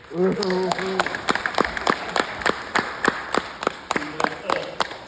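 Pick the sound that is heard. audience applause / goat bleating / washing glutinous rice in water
audience applause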